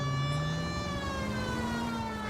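A police car siren in the video game L.A. Noire wails in one loud, steady, slowly rising tone, heard alone.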